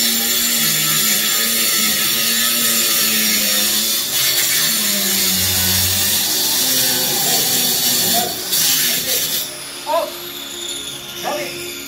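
A saw cuts a concrete block in half while building a bar and fireplace, giving a loud, continuous grinding whine with pitch shifts as the blade bites, and a voice briefly audible under the noise.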